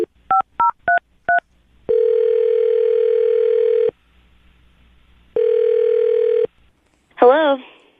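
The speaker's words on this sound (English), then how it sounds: "I'm going to dial her phone number right now" A telephone number dialed on a touch-tone phone: five short dual-tone beeps in quick succession, then two long steady ringback tones separated by a pause, and a brief voice at the end, all clear and close.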